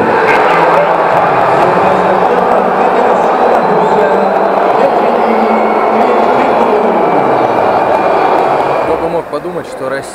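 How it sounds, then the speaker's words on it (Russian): Egyptian boxing fans roar at a boxing match in a loud, dense crowd din that holds steady, with voices mixed throughout, then drops away near the end. "И вот как шумят египетские болельщики."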